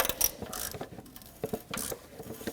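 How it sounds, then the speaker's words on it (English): A ratchet turning a twisty extractor socket on a rounded exhaust manifold bolt of a 2.4L four-cylinder Jeep Wrangler, giving close, irregular bursts of clicking with short pauses between strokes. "when I have rounded head bolts or nuts, I use a twisty socket"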